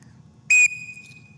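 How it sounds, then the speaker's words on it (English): One short, piercing whistle blast, used as the shoot signal at an air rifle range, rings out alone over a quiet room. "The next whistle blast you're going to hear is one blast, and that means shoot."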